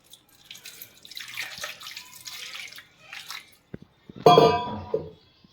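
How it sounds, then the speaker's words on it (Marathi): Tap water runs and splashes as half a kilo of carrots is rinsed under it, with short bursts of flow, drips, and a louder gush near the end. "आता ह्याला मी स्वच्छ पाण्याने धुवून घेते"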